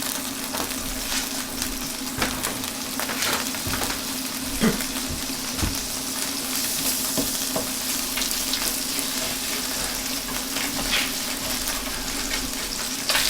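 Four tablespoons of butter melt in a frying pan with a continuous close crackling sizzle and a few clinks of stirring, with a steady hum underneath and no speech.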